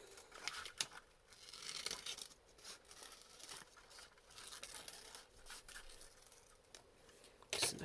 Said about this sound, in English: So I'm just going to cut a circle.